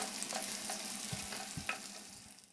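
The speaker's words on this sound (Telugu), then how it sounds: "సన్నగా కట్ చేసి పెట్టుకున్న ఆనియన్స్ని ఫ్రై చేసుకోవాలి" Thinly sliced onions fry in a pan of ghee and oil, a steady close sizzle with a few soft scrapes and stirs of a spoon, no voices.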